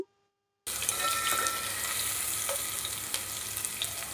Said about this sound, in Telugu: ఫ్రెష్ అల్లం వెల్లుల్లి పేస్టును వేసుకున్నాను. ఇవన్నీ కలుపుతూ మాడిపోకుండా ఫ్రై చేసుకోవాలి.